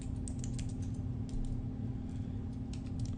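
Keys clatter in quick, uneven bursts as a passphrase is typed on a computer keyboard, close and fairly quiet over a steady low electrical hum.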